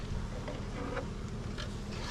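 Honey bees hum steadily around a hive being built up into a deep box in West Texas in the fall, a dense, continuous low buzz with a few individual insects passing close.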